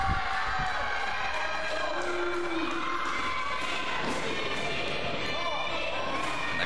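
An indoor wrestling crowd in Peabody cheers steadily through a Liberty States Wrestling match between two wrestlers, a dense, fairly distant roar with occasional shouts running beneath a commentator's voice.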